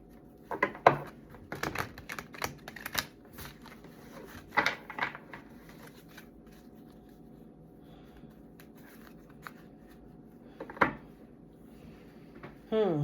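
Soft, irregular shuffling and tapping of tarot cards, with sharp riffles and slaps scattered across a quiet background, close by.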